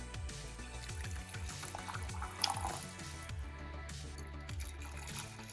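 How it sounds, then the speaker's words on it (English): Hot water pours from a container into twelve glass candle jars for wax removal, a steady close splashing, gurgling stream with rising filling tones and small drips. "So I'm pouring the hot water into all 12 bottles."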